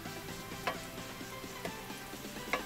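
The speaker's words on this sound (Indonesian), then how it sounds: "Bawang merah, bawang putih, dan daun salam ya guys ya. Kita tumis sampai mengeluarkan bau harum guys." Shallots, garlic and bay leaves sautéing in a pan, giving a steady soft sizzle with occasional light clicks of stirring, close and fairly quiet, with no voices.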